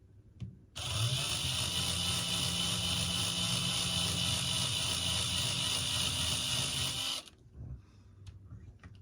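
A power drill whirs at a steady high pitch for about six seconds while drilling into a model Hellcat aircraft to install LED guns, then stops, leaving faint handling noises.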